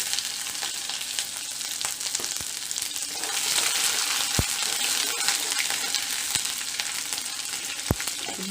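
Garlic and cumin fry in a pan with a soft, steady sizzle, punctuated by a few sharp spoon taps against the pan.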